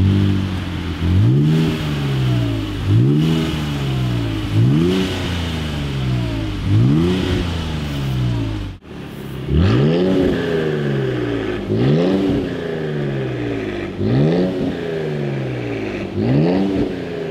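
Infiniti Q60s with a custom two-mode exhaust revving repeatedly while driving, about eight rising and falling engine surges in a steady rhythm, loud and close, with a short break midway and no talk.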